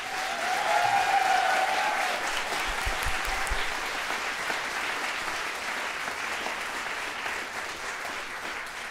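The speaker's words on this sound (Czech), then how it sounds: "Já poprosím, klidně ještě zatleskejte." A concert hall audience applauds at a folk music concert, a dense, sustained wash of clapping that stays loud and gradually tapers slightly, with a faint tone briefly audible early on.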